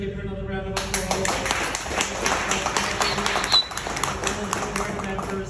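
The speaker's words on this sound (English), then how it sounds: "Give her another round of applause." An audience at a business improvement district's annual community meeting claps in a dense patter of many hands, moderately close, with voices talking over and around it.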